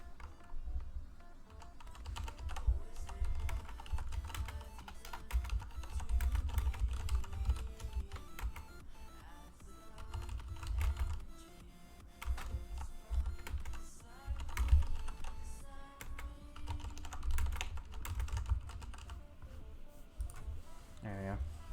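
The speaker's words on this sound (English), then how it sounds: "I'm gonna type something out real quick." Fast, steady keyboard typing clatters throughout as someone types out a message in Discord during an Ulala clan wars session, with a person's voice and low background sound running underneath the keystrokes.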